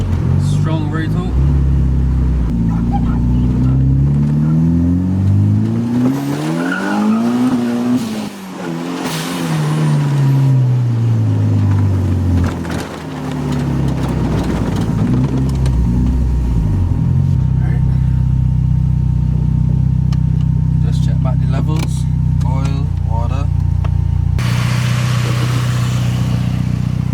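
A car engine from a rebuilt Evo-powered Colt revs up in a rising sweep, drops back as the car slows hard under braking, then climbs and holds a steady loud drone, close and continuous.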